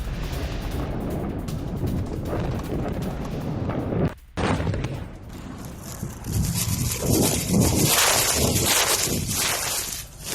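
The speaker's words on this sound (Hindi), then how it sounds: "हवाई हमलों से दहला यमन का होदेईदा" Airstrike explosions over Hodeidah, Yemen: dense crackling blasts and rumbling bursts, a brief dropout midway, then a louder, sustained roar of booming detonations and fire, with no speech.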